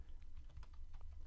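Rapid keystrokes on a computer keyboard, typing a hashtag into a tweet box, a steady run of close, light clicks with no voices.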